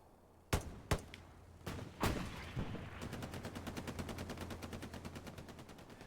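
M3 grease gun firing in a WWII shooter battle at Sainte-Mère-Église, with a few separate sharp shots, then a long steady burst of rapid automatic fire.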